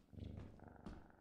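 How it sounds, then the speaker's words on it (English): A cat purrs in a horror-style video game, a close, soft rhythmic rumble with a couple of breathy cycles, heard alone without talking. "Just keep purring."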